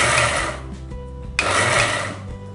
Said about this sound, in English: now we need to grind this in really short spurts